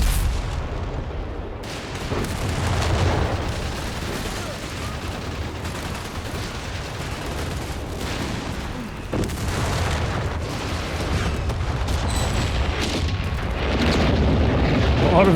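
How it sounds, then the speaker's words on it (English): Grenade blasts and gunfire in a Company of Heroes 3 battle on the Summit map between US Forces and Wehrmacht, a dense, continuous barrage of booming explosions and rattling shots, loud and sustained throughout. "Big grenade assault, one ranger dead."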